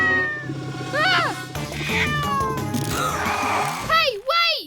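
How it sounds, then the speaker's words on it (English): Cartoon kitten gives several high, wavering meows, loud and close, mixed in with animated character speech and other cartoon sounds, ending in a sharp rising cry. "That kitten must be lost."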